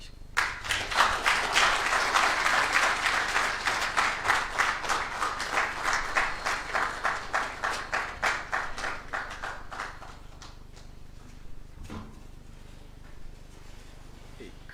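Audience at an annual ethics lecture breaks into loud, dense applause that settles into rhythmic, in-time clapping, then fades to a few scattered claps and near quiet.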